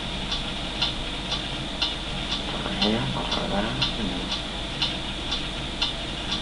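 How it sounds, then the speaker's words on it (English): A mysterious ticking in a puppet comedy sketch beats out regular, crisp clock-like ticks about once a second, continuing steadily while a voice speaks briefly in the middle. "What is that mysterious ticking noise?"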